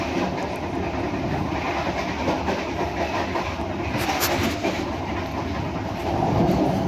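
The KA Kamandaka modified economy-class train rolls along the rails, heard from inside the carriage as a steady loud rumble with faint wheel clatter and a brief metallic squeal midway.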